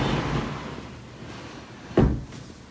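A drawer in a craft studio holding wrapping papers and backing board slides and bumps shut, a soft rumble followed by one sharp thud near the end, close and alone.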